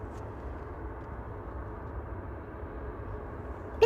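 An EasyJet airliner at Manchester Airport gives off a low, steady, distant rumble, faint and even throughout with no voices.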